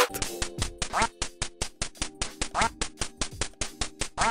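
Repeated cartoonish duck quacks from the NES game Duck Hunt, a rapid regular train of loud chiptune-style blips over a steady electronic drone, with no voices.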